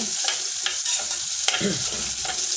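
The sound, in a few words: ginger and onion sautéing in a pan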